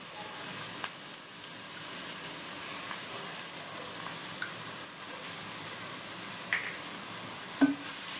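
Chopped large onions sautéing with salt in a pan, a steady close sizzle and hiss with occasional clicks of stirring, no voices over it.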